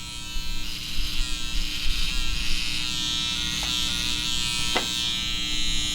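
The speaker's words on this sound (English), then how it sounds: "Always want to make sure your trimmer's a 0 gap so you can get it the crispiest possible." An electric hair trimmer set to zero gap buzzes steadily and close up while cutting a fade during a bad-haircut fix, with small fluctuations as it moves through the hair.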